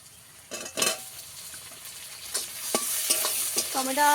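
Onion and chopped tomato stir-fried together in a pan, a steady sizzle broken by several scraping stirs of a spatula, growing busier and louder toward the end, with no voices.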